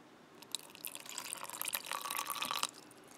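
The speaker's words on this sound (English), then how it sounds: "I gotta put some more water in there too." Water is poured from a small jar into a blender holding blended guava, a faint, close trickle that swells into splashing and then stops, with no talk.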